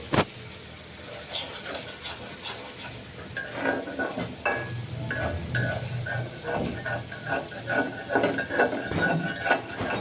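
Pressed dried fish and onion frying in hot oil, with a steady sizzle and the scrape and clatter of a spatula stirring in the pan, close and moderately loud.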